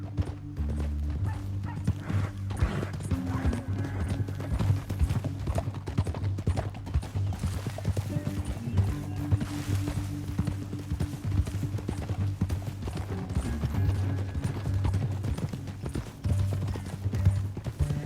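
Steady clip-clopping of horse hooves at a trotting rhythm in Red Dead Redemption 2, loud and close, over a low rumbling backdrop with game-like ambience.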